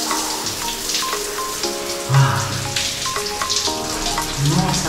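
Water running from a small outdoor shower fed by a rooftop water tank, a continuous hissing spatter close by, with faint tonal hum and occasional heavier splashes as the stream hits skin and cloth.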